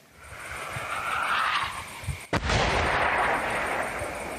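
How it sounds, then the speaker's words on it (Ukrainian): Heavy machine-gun fire in a noisy outdoor combat zone, with a sharp loud burst midway followed by sustained rumbling bangs and roar. "По нам стріляють."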